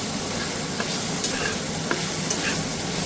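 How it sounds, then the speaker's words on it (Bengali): Garlic fries in a pan with a steady, close hiss and crackle, broken by a few soft stirring taps and no voices. "আর রসুন একসাথে ভাজতে দিয়ে দিয়েছি"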